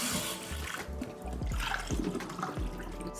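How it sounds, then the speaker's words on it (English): Tap water runs and splashes over pork ribs as cornstarch and salt are rinsed off, a steady close stream with irregular sloshing and dripping, no voices. "Then rinse off the cornstarch and the salt."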